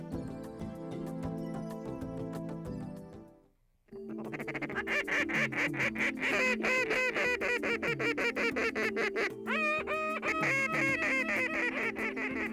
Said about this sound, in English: duck calls pierce the quiet solitude on the waters of the Potholes Reservoir